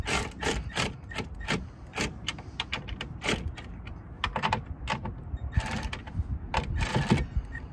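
Mirror nuts being gently snugged onto metal studs on a 2005 Chevrolet Silverado's plastic mirror: close, irregular metallic clicks and light scraping, repeated in uneven bursts without talk.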